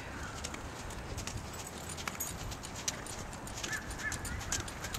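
Horse hoofbeats at a canter during a riding test, a steady rapid clip-clop over constant outdoor background noise, with a few faint honking or bird-like calls nearby.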